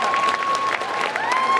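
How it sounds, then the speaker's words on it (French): Applause from an audience at a costume contest during a geek convention in Chalon-sur-Saône, with lively, dense clapping that is loud and close and goes on for the whole moment. "On les applaudit."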